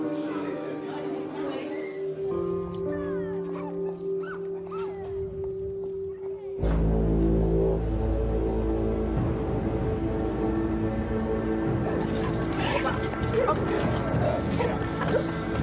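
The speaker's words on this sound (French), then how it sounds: "Des chiens de détection arrivent à Aylesbury pour y rechercher de la drogue ou des objets de contrebande." Prison drug detection dogs barking on arrival at Aylesbury prison, several sharp barks and yips amid chatter, a sudden louder thump partway through and a busy, echoing background with people talking.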